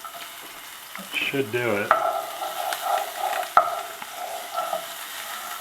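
Bacon-wrapped filets sautéing in a hot pan, a low sizzle with stirring scrapes and a couple of sharp clicks, a brief spoken remark near the start.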